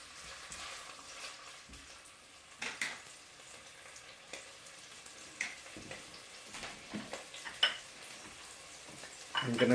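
Food sizzles and fries in a very hot pan on high heat, a steady crackling hiss broken by occasional stirring scrapes and small utensil clicks, close and without talk.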